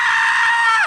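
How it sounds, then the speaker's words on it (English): A loud, sustained, high-pitched scream sound effect that holds steady under a second, piercing and shrill throughout with no talking over it. "blood-curdling scream?"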